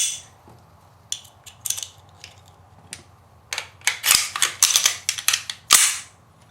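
Metallic clicks, snaps and scraping clatter from an XD 9mm pistol as its barrel and slide are put back together, with sparse clicks at first building to a dense, close run of sharp mechanical snaps, no talking.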